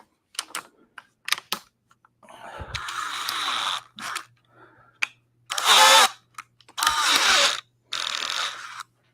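A 40V cordless power tool being compared against rival brands runs in several short bursts, loud and close, separated by silences and a few clicks.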